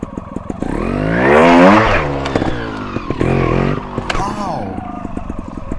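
A trials motorcycle climbing a step in second gear revs up hard and climbs in pitch, then drops and clatters, revving again in short bursts close by.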